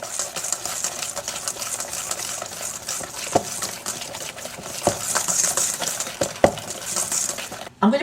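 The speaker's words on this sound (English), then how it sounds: "It's going to keep whisking over. Just make it smooth." Brownie batter is whisked smooth in a bowl with steady, close scraping and rhythmic clinks of the whisk against the bowl, punctuated by a few sharper knocks.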